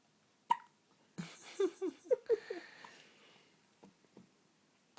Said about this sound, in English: Oh, hiccups.